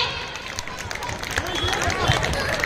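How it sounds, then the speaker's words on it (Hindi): An audience applauds a staged dramatic performance with a thick, continuous wash of clapping. A crowd murmurs and voices talk through it, and the whole thing stays fairly steady and moderately loud throughout. "तालियां बजाइए"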